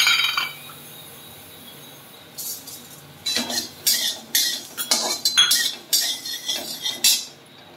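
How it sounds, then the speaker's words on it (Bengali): A utensil scrapes and clinks against a dry pan while black cumin, garlic and green chili roast over low to medium heat. A quiet stretch gives way to a run of sharp, bright metallic taps and clatters at close range. "এই শুকনো খোলায় কালো জিরে, রসুন, কাঁচা লঙ্কা এগুলো ভেজে নিতে হবে।"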